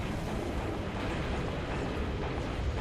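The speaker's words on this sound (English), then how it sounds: "A beautiful explosion." A deep, sustained rumbling roar from an explosion in the video game Halo Reach, dense and continuous across the whole stretch with no voices.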